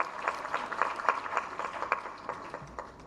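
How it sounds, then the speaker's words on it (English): An audience at a tourism expo in Uganda claps in a thin, fairly quiet round of applause, with distinct individual claps in a loose, quick rhythm. "so a round of applause."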